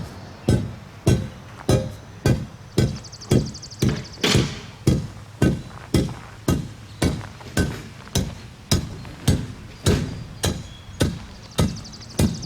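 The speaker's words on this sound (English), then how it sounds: "I'm going to take my hand tamp." A hand tamp pounds screeded stone around a fire pit in steady, regular thuds, roughly two per second, each blow loud and close with a short gritty ring.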